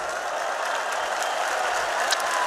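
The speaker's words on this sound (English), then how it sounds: "See, a nice warm round of applause." Warm applause from the crowd at a live Counter-Strike: Global Offensive major tournament event in Krakow, a steady, dense wash of clapping that holds evenly throughout with no voices on top.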